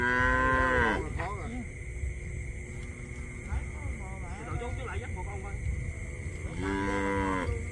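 A mother cow on a Vietnamese cattle-trading trip moos loudly and close by, with a long drawn-out call at the start, shorter lows in the middle and another long moo at the end, over background noise and people talking.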